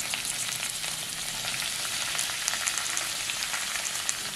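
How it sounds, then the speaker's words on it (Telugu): Chopped fenugreek leaves fry in oil in a kadai, giving a steady, close sizzle with faint crackles and occasional stirring noises, and no voices. "ఆయిల్లో చక్కగా వేయించుకోవాలి"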